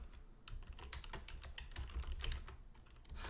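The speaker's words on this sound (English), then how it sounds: "I'll type that in the chat." Close-up typing on a computer keyboard, with quick irregular clacks and taps of the keys running steadily throughout at a quiet level.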